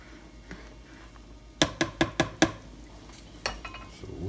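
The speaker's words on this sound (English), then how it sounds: "Just as soon as I give it a good stir." A spoon stirs a pot of chicken noodle soup on the stove, giving about five quick, evenly spaced clinks against the pot, followed by a couple of softer scrapes over a low background hum.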